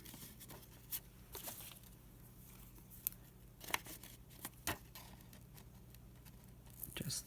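Scissors cut paper around a fold: faint, close snips and crisp paper rustles come at an uneven pace over quiet room noise.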